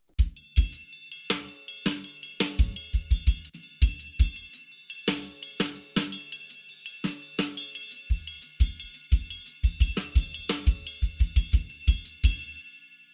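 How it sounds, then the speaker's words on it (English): A drum kit plays a tight, funky groove: closed hi-hat ticks alternating with crisp snare hits, plus ringing cymbal bell accents, steady and up close. "back and forth between the closed hi-hat and the snare drum"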